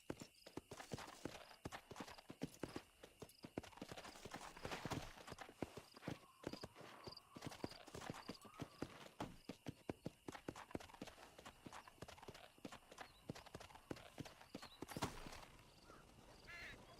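Horse hooves clip-clop at a slow walk in the Red Dead Redemption video game, a steady rhythmic clatter close by that runs throughout amid faint ambient game sounds.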